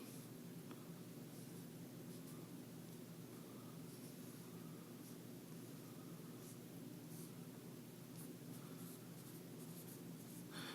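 A capacitive stylus pen scratches faintly across an iPad screen while drawing slowly, soft continuous strokes buried in a steady hiss of background noise.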